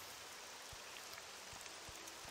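Steady rain falls in the fantasy world of Morrowind, a soft continuous hiss with faint scattered drops, fairly quiet and with no voices.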